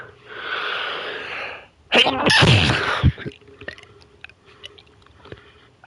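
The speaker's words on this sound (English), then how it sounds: "I've never sneezed and almost vomited before." A single loud sneeze bursts out close up, preceded by a few seconds of steady breathy noise and followed by quieter rustles, small mouth sounds and a faint steady hum.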